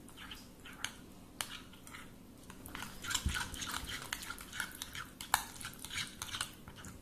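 Cauliflower being mixed with olive oil and spices on a plate: close, clattering scrapes and taps of a utensil against the plate repeat in quick irregular bursts, with soft wet stirring underneath.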